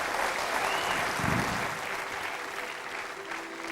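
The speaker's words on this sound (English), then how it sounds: "beautiful round of applause" A studio audience on a late-night television show applauds a performer and his band, a sustained broad roar of clapping that fades slightly toward the end, with a faint tonal sound and brief voice beneath it.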